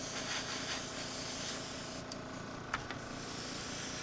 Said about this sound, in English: This one I'm just going to concentrate the hairspray on the areas I plan on doing the actual chipping on